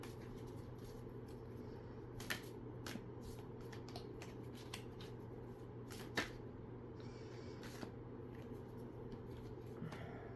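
Citadel oracle cards being shuffled by hand, a soft continuous riffling with scattered sharper card snaps, close and quiet over a steady low hum.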